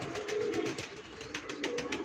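Pigeons coo softly nearby over a steady hiss of background noise, their low calls repeating.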